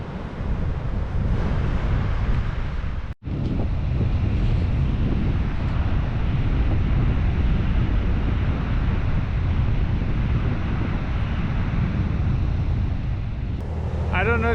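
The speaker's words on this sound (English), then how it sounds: "It's windy today on the coast. The wind is cold." Cold wind gusting on the coast at Hampton Beach by the Atlantic, loud continuous roaring buffeting against the microphone with surf rumbling beneath, one brief dropout early on.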